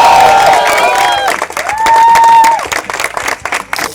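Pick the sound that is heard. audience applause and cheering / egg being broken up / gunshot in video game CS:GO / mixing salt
audience applause and cheering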